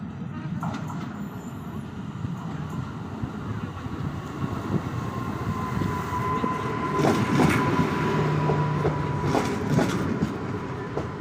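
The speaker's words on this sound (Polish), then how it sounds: "Czekam więc na przyjazd mojego pociągu Regio ze stacji podlotniczy Szczecin-Goleniów." Regio regional train pulling into Szczecin Główny station, steady rumbling rail noise with wheel clatter and a faint squeal building as it nears, a few brief tones on top, fairly close and continuous throughout.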